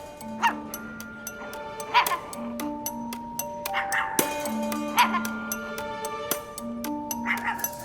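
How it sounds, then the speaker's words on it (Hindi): A dog barks and yips repeatedly, about once a second, sharp and close, over a sustained tonal background, with some whimpering between the barks. "आपके इस कुत्ते की वजह से हम बात नहीं कर पा रहे।"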